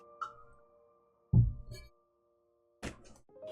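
A heartbeat in the Saint Maker video game gives deep, muffled thumps, spaced widely in a slow rhythm against near silence and a low steady hum.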